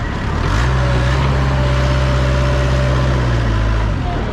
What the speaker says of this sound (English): Of course, there's traffic.